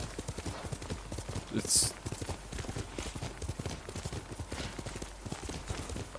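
Horse hooves clip-clop at a steady trot in the video game Ghost of Tsushima, a quick, even patter that continues throughout, with a person talking briefly over it.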